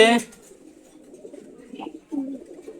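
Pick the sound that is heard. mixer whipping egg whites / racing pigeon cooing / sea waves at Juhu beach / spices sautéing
racing pigeon cooing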